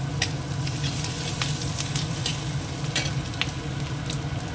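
Chopped ginger fries in hot oil along with chopped onion, a steady close sizzle with scattered sharp crackles and occasional stirring scrapes, no voices.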